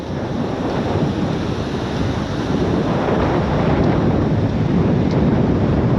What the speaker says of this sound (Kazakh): мына жерде толқындар деген қатты соғып жатыр